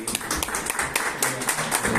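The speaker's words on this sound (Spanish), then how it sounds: "A su esposa les damos un aplauso, por favor." Audience clapping at a spring equinox eclipse commemoration event, close, uneven hand claps with distinct individual strikes rising and falling over a couple of seconds, with some background murmur.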